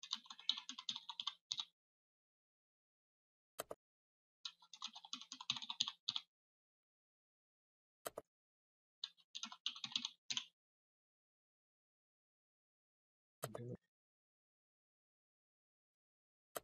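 Login details typed on a computer keyboard: three close bursts of rapid key clicks separated by silence, with a few isolated louder clicks between them.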